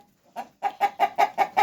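A large, heavy rooster clucks up close in a steady run of about six short, evenly spaced calls, with no one talking.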